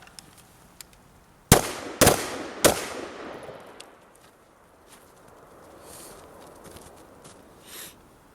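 Three sharp AR-15 rifle shots crack in quick succession near the start, each followed by a short fading ring, then the range settles into faint background noise with a small thump later.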